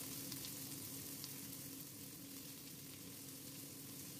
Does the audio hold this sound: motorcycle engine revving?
no